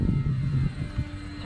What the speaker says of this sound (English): landing flaps are fully deployed. We'll do a nice slow flyby.